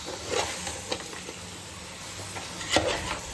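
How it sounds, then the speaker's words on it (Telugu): Masala for a Rayalaseema thalakaya curry stirred in a pan on a stove, soft intermittent scrapes and clinks of a spoon against the pan over faint sizzling, quiet and close. "ఇదంతా వేసి ఒకసారి బాగా కింద మసాలా అంతా దీనికి సరిపడా కలిపేయాలి"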